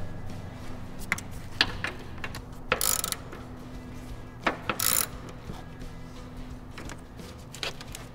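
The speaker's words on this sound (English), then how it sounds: "Now we reinstall the battery bracket." A ratchet tightens bolts while the battery bracket is reinstalled on a Chevy Impala. Short bursts of rapid clicking repeat several times, close and fairly quiet, with faint workshop hum in between.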